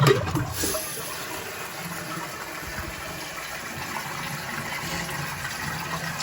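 Toilet flushing and cistern refilling during plumbing work in the UK: a loud initial rush of water settling into a steady, close hiss and gurgle of the tank filling, with no talking.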